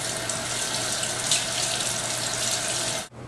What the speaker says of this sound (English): take your salmon and then just run it under some water